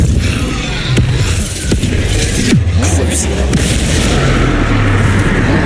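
A Bombarda blast spell erupts in the Hogwarts Legacy wizard game, a heavy booming explosion amid a dense, loud wash of combat noise, with sharp hits and low rumbles continuing throughout.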